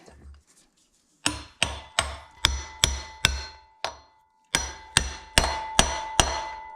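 Hammer blows drive a socket to seat a part during an 8.1L engine swap into an 88-98 GMT 400 OBS truck, ringing metallic strikes: a few spaced hits, a pause, then a steady run of loud, close clanks.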